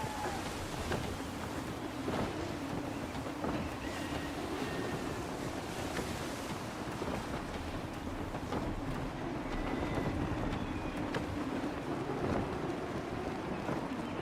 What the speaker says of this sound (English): Gusty winds can be difficult to manage. Reduce speed. Ease her off. Half sail.